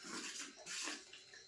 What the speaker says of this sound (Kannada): ಅಂದ್ರೆ ಕುದಿಯ ನೀರು ಹಾಕೊಳತ್ತೀನಿ ರೀ.